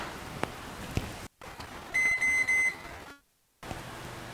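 A microwave is set to a 3 minute timer to melt candle wax, giving a short run of bright electronic beeps after some faint handling clicks, then a brief quiet gap.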